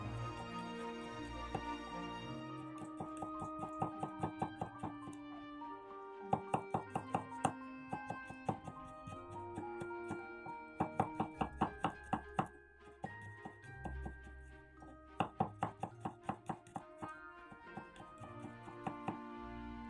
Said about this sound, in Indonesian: 5 siung bawang putih, ini cuma diiris seperti ini aja ya